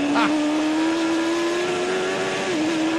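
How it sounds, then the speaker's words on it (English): A superbike racing motorcycle at the 1999 Ulster Grand Prix road race, its engine holding a loud, close, high-revving whine throughout with a slight rise in pitch. "the man who didn't think that Joey Dunlop would be the main competitor here in the Superbike race"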